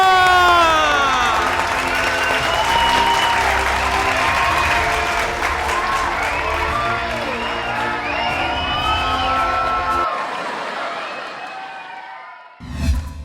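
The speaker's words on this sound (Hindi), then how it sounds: "तालियां।" A crowd at a political rally applauds and cheers loudly, with whoops and shouts over sustained clapping that cuts off abruptly near the end.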